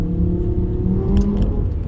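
A Lamborghini supercar engine rumbles and revs on a Las Vegas street by the convention center, a loud low growl close by with a slight rise, amid traffic noise.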